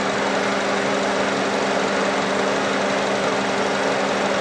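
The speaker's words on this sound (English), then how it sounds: "I hear a slight knocking sound in the engine." Honda Civic engine idling with a steady, loud, continuous hum and a constant drone that stays unchanged, with no distinct knock clearly standing out.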